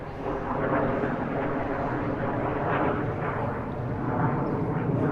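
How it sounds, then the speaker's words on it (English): An airplane passes overhead, a steady broad engine roar that swells slightly and holds for several seconds with no talking over it. "I got a plane overhead"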